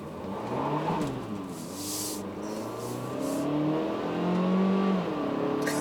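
A 2017 Kia Soul Turbo with 201 horsepower accelerates hard, its engine note climbing in pitch through several gear changes, heard from inside the car, with some wheelspin from loss of traction.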